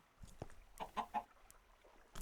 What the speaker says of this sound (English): surrounded by so many chickens